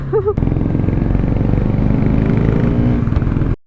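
A carburetted Bajaj Pulsar NS200 motorcycle engine drones steadily at close range, laboring up a steep slope with a constant low rumble for a few seconds before cutting off.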